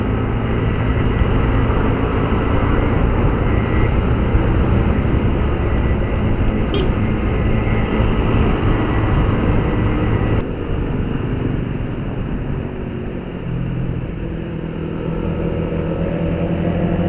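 Yamaha Aerox 155 scooter from 2020 on a test ride, with a steady, loud engine drone and road and wind noise running continuously, easing slightly partway through before building again.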